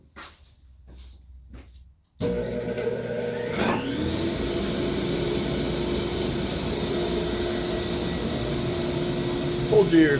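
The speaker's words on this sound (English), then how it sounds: "that's actually the dust collector" Dust collector in a woodworking shop kicking on after a quiet moment, then holding a loud, steady roar with a droning hum for the rest of the time.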